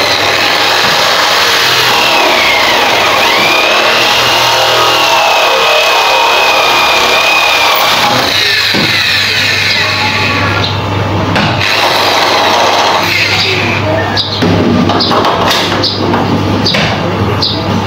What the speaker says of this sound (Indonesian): Jadi proses pengeboran sudah selesai